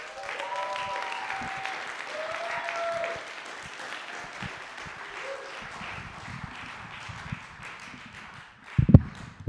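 Applause from an audience at a sober open mic night as a band comes up to play, clapping steadily for several seconds and then thinning out, with a few louder knocks near the end.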